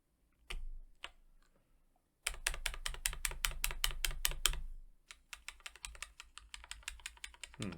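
Kailh blue mechanical keyboard switches pressed close up: two isolated clicks, then a fast rapid burst of crisp clicky keystrokes, followed by a slower run of presses.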